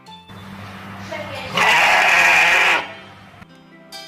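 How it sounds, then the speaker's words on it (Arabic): A sheep bleats once, a loud wavering cry of about a second, preceded and followed by a calm voice speaking. "Sheep."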